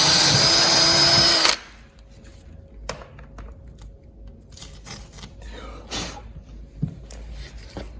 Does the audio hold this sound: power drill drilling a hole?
yes